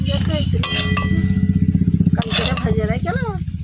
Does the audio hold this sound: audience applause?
no